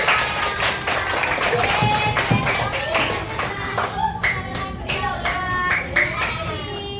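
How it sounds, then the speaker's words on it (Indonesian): Children in a classroom clap together in a quick, steady rhythm, loud and close, while young voices chatter and call out over the hands. "Oke, beri tepuk tangan dong teman-teman."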